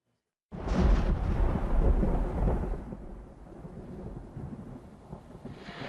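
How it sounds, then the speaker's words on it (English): Thunder from a tropical storm that grew into Hurricane Katrina rumbles in abruptly, loud and broad, then eases into a steady wash of rain and wind. "It was just a tropical storm at first."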